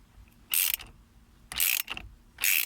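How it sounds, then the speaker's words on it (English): A steering wheel nut on a 2004 Nissan Sentra is loosened with a ratchet, giving three close, loud bursts of rapid metallic clicking separated by short pauses. "loosen it until the nut is right about flush with the stud there"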